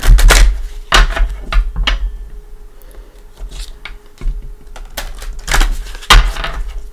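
A deck of tarot cards is shuffled by hand, with repeated papery riffles and soft slaps coming in close, loud bursts separated by brief pauses and a faint background hum.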